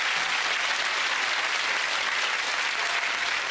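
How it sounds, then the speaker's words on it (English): A television game-show studio audience claps in a dense, steady burst of applause, loud and even throughout with no voices standing out. "Give them a nice clap."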